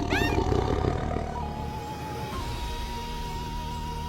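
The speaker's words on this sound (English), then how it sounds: "The lion snarls and holds its ground" A lion snarls and roars on the savannah while facing hyenas, a loud rasping growl up close at the start that fades into a lower, sustained rumble with faint ambient noise.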